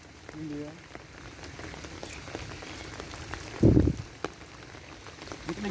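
Rain patters on a surface near a fish pond, a continuous light spatter with a brief louder splash midway, while people talk nearby.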